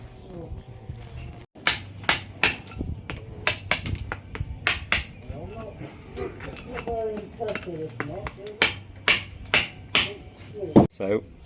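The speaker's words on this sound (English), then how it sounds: "chop out this sand cement joint, and with that I'm going to use my favourite chisel from Footprint" A hammer drives a long comb chisel to chop out a sand and cement joint in cracked brickwork, giving sharp, regularly spaced metallic strikes, close and loud, with someone talking between the blows.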